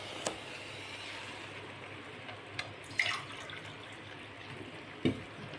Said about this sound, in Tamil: 3 கிளாஸ் தண்ணீரை ஊற்ற வேண்டும்.